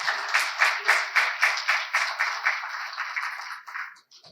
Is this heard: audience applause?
yes